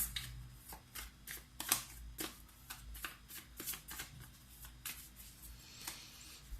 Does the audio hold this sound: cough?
no